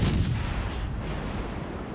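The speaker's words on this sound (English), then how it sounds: "He's shooting at the Duke of York." A heavy battleship gun salvo in World of Warships, a loud booming blast at the start that rolls into a long, dense, decaying rumble with no voices over it.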